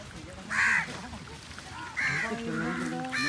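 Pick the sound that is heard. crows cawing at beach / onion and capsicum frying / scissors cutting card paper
crows cawing at beach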